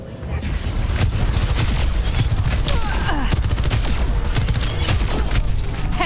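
Sniper rifle fire and a dense burst of game gunfire with booming impacts in a first-person shooter match, loud and continuous over several seconds, with voices talking over the action.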